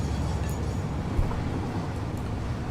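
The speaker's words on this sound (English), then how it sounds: "So we just let this train go through." A train in Satisfactory rolling through, a steady low rumble and rushing noise at an even level, with a couple of faint clicks on top.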